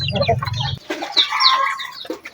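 Month-old chickens clucking and chirping close by in a short, lively burst of several overlapping calls.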